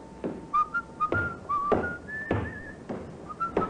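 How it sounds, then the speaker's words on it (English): A man whistles a short, wandering tune in a radio drama, bright clear notes rising and falling with small slides, interspersed with soft footsteps or knocks in a quiet interior. "that fella there, whistling"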